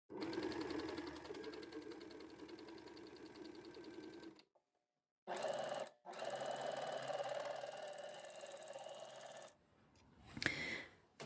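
An overlocker runs a flatlock seam on a test piece of fabric, a steady close mechanical whir in two long runs broken by a short pause, then a brief clack at the end.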